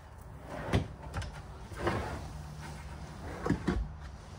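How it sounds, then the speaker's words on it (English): Kitchen drawers in a 2023 DRV Mobile Suites 39DBRS3 RV sliding out on their runners, heard as several soft, close rolling slides and light thumps spread over a few seconds. "The drawers pull way out."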